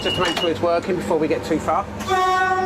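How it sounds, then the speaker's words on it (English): Someone speaks aboard an East Coast train leaving King's Cross, then the train horn sounds in a loud, steady, close tone near the end. "I'm just going to test the horn because I test it when I leave King's Cross"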